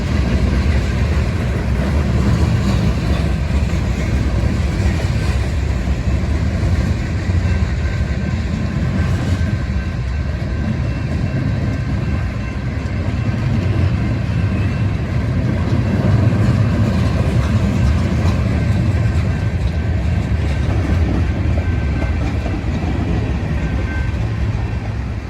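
A long freight train with hopper, wood chip and steel coil cars rumbles steadily past nearby in eastern Missouri, wheels clattering over rail joints in a continuous, heavy roll with no voices.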